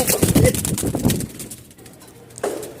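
Female Lakha pigeons coo while being handled on a pigeon farm, a few soft throaty coos and fluttery rustles close by, with someone talking over them.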